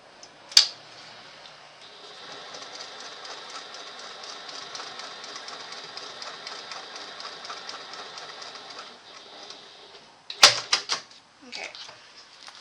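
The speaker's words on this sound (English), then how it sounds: "top stitch 1/8 inch away from this edge" A sewing machine top stitching fabric, running in a steady fast mechanical chatter for several seconds, framed by sharp clicks and knocks at the start and end.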